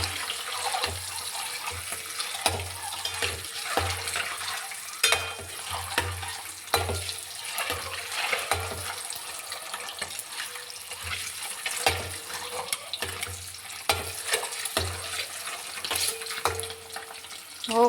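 Eggs frying in oil for an egg curry, a steady soft sizzle and crackle running throughout with faint stirring clinks, fairly quiet and without talk.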